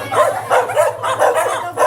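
A dog barks repeatedly at close range, a quick series of yappy barks with a low hum underneath.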